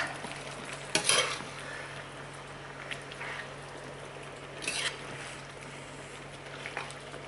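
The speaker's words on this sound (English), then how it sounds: "So we add this to here. Okay. pan. Mix it all up." Chicken stir fry stirred in a pan, soft scraping and tossing over a low steady sizzle, with a couple of louder clatters from the utensil against the pan.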